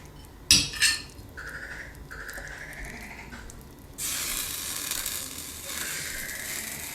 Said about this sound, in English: I'm just going to get a little bit in a bowl now, just to taste.